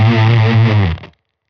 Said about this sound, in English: if we turn it on now, we are going to be on a Bitcrusher